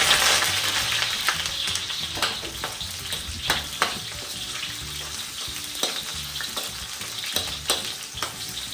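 Garlic and onion sauté in oil in a pan for kare-kare, a steady close sizzle broken by repeated scraping stirs with no voices.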